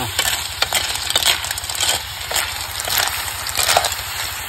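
River snails fry in a pan over a continuous sizzle, with repeated scraping and stirring clatter as a utensil moves them around. The sound is close and moderately loud.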